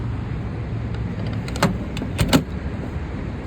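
A gas pump nozzle clicks off while a car is refueling: two short, sharp mechanical clicks close together near the end, over a low, steady background hum with no talking.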